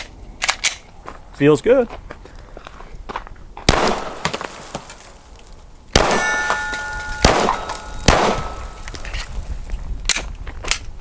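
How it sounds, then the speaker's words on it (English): A Glock pistol fires several sharp, loud shots at soda cans outdoors, with metallic clangs as the cans are struck, spaced irregularly, and someone speaks briefly between them. "we got a couple soda cans here. Let's see if we can't shoot them here."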